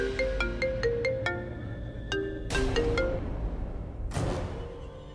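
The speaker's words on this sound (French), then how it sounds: "Tu n'entendais pas la sonnerie de ton téléphone?" A mobile phone ringtone plays a bright, repeating electronic melody of short, clear tones, steady and fairly loud across the whole stretch with no voices over it.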